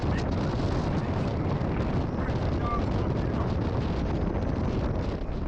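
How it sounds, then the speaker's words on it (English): A strong gale buffets a sailboat at sea, with a steady, loud roaring rush of wind and microphone buffeting that runs unbroken throughout. "Oh, those gales haven't finished."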